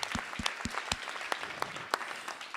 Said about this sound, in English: Perhaps a round of applause for them.